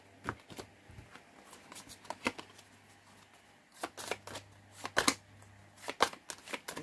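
Oracle cards being shuffled by hand: soft, quick riffling and flicking bursts, quiet and close, with scattered taps as the deck is squared, over a faint low hum.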